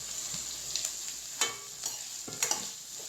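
Green chillies sauté in a pan for Nagpur-style poha chana, a soft continuous sizzle broken by a few sharp spatula clicks and scrapes, close up and with no talking.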